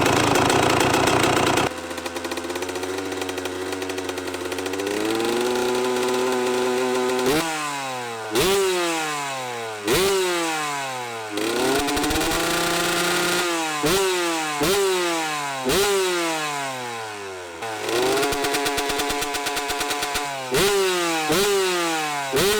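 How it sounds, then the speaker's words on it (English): A Kawasaki KX 125 dirt bike that sat too long idles roughly after starting, its two-stroke engine buzzing loud and close with repeated uneven revs rising and dropping throughout. "we'll try to start it up and let it run idle for a little bit"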